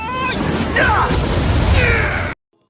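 In an animated fight scene, loud explosive bursts and whooshing blasts pile up in a continuous barrage for about two seconds, then cut off abruptly to silence.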